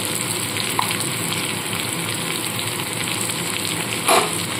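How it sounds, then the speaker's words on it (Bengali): Potatoes frying in hot oil with a little salt and turmeric, a steady sizzle throughout with a brief louder crackle near the end. "আলুগুলোকে সামান্য একটু নুন আর হলুদ দিয়ে একটু ভেজে নেব।"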